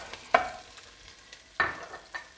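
Scattered sharp clatters of stirring roughly chopped brown onion in a pan of hot oil over a low, faint sizzle, three distinct knocks spread across the moment.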